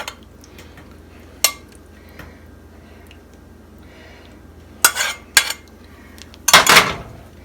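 Beef stroganoff is emptied from a pot into a serving dish, with a few sharp metallic clanks and scrapes of a spoon against the pot, loudest near the end, plus a soft wet squish between them.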